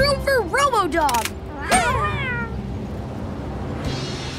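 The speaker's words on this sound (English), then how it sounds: "Come on, kitties. Make room for RoboDog." Kittens in a PAW Patrol puzzle video game meow in a rapid run of high, bending cries, several overlapping at the start, then a couple more calls and a brief hiss, with light background music.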